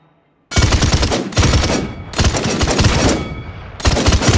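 Automatic weapon fire from the Paladins video game rattles out in three loud, sustained bursts with short gaps between them, close and dense with no talking.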